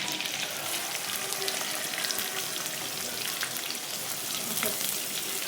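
Onion and curry leaves sizzle steadily in hot oil in a kadhai for a home-style bitter gourd sabzi, a dense continuous crackle with faint scrapes of stirring, close and fairly loud, no talking.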